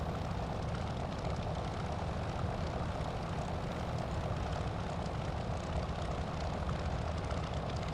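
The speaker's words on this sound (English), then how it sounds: "I love the sounds on this aircraft." A P-40F Warhawk's propeller engine drones in Microsoft Flight Simulator, a dense, constant rumble with a steady whirring buzz and no pauses or voices.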